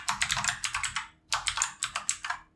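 Code is typed on a computer keyboard for a Laravel 10 PHP e-commerce project, with rapid close clicking keystrokes in two quick bursts separated by a brief pause.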